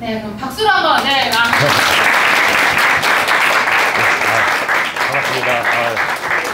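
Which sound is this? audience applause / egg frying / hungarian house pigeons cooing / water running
audience applause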